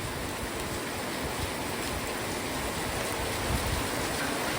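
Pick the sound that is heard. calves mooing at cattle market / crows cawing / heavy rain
heavy rain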